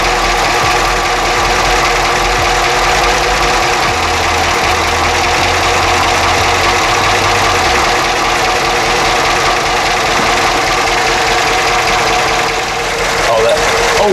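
Pontiac Grand Prix GXP with a 5.3 V8 LS4 idling steadily and loudly up close, with a low rumble and constant engine drone; lifter ticking may be present but is not clearly distinct, and people talk over it.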